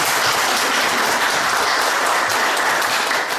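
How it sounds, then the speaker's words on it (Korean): An audience claps together to open a debate forum held at the National Assembly, a dense, loud, sustained round of applause from a crowded room, continuous throughout with no voices over it. "우리 참가하신 분들의 박수로 시작하도록 하겠습니다"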